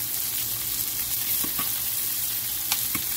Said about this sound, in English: And that's the tuna is cooking.